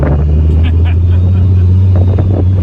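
VR6 turbo-swapped MR2 Roadster pulling away in fourth gear, a loud, deep steady engine drone heard from inside the car, with people talking over it.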